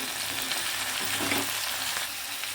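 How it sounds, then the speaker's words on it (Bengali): Mushrooms sautéing in mustard oil with salt and turmeric, a steady close sizzle with faint stirring, no voices. "আমি মাশরুমটা অ্যাড করে দিলাম, হালকা সতে করে নেব, বেশি ভাজবো না"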